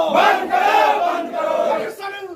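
A protesting crowd chants slogans in unison during an uproar at a town council board meeting, loud, close and sustained, with voices rising and falling in rhythmic shouted phrases.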